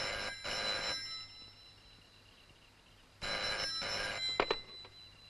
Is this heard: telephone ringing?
yes